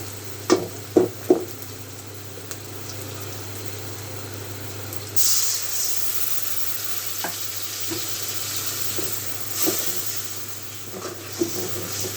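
Baila fish frying in a hot pan for a tomato and onion chorchori, with a steady hiss that swells into a louder, brighter sizzle about halfway through as water is poured in; a few sharp utensil knocks come early.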